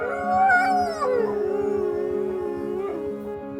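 Several dogs howl together in a sustained chorus, long rising and falling wails overlapping and layered against one another throughout.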